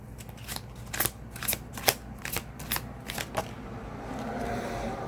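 An oracle card deck is shuffled by hand, giving a series of crisp riffling snaps and flutters at close range, roughly eight bursts over five seconds, trailing into a soft rustle.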